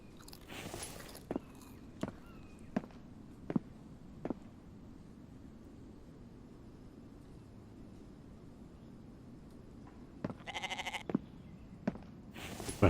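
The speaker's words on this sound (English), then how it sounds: "I have a goat in here." Goat bleats from the survival video game The Infected: a few nasal bleats, one early and a cluster near the end, with sharp clicks and soft footsteps scattered through a quiet stretch.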